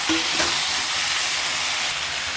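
Chopped tomatoes and chillies sizzle and hiss steadily in a hot pan for tomato chutney, a close, continuous frying crackle with no voices.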